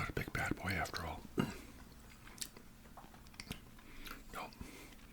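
Close, intimate chewing and biting of a Burger Factory Compressor triple burger, with wet crunchy mouth sounds and soft whispering between bites.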